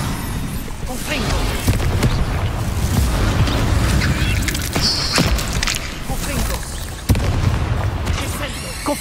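Repeated Confringo blasting spells from Hogwarts Legacy go off in dense succession, loud booms and crackling bursts piling onto each other over a rumbling battle background, with a few sharper hits standing out.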